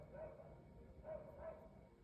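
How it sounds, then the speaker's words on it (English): A dog barks in the background, three short distant barks spread across roughly two seconds, each one faint and set against a steady low room noise. "despite the barking in the back"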